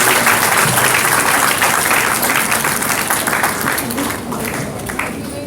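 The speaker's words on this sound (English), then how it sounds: "Please give them a big round of applause." An audience at a moot court valedictory function claps loudly in sustained applause that fades slightly toward the end.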